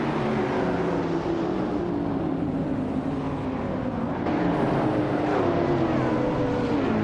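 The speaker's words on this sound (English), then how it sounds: "Leading the pack right from the start is Bot Gliding Penguin in a 2012 Zenvos T1." Race cars, including a 2012 Zenvos T1, drive in a video game with a continuous engine drone and a rising pitch sweep partway through, steady and moderately loud, with no voices.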